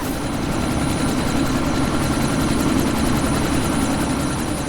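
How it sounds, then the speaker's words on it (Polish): A helicopter in the video game Deus Ex: Mankind Divided, set in Dubai, gives off a steady, loud rotor thrum and engine whine, constant throughout with no speech. "to jest śmigłowiec."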